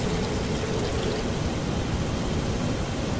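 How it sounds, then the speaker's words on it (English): Steady, loud rushing of flowing water in the horror game 666 South Street, an unbroken broadband wash like a running tap or stream, heard alone and close. "Okay, the water sound died."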